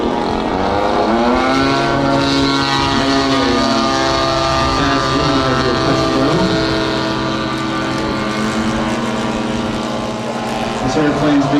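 A big Stinson Reliant propeller airplane drones past at a model air race, its steady engine hum with stacked harmonics loud and sustained throughout, the pitch shifting gently as it crosses overhead.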